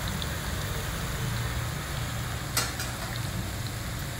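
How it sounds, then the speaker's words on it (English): Oil fizzes and sizzles steadily as methi (fenugreek) chips fry, a constant dense crackle with one brief sharp click partway through. "So while one batch is frying"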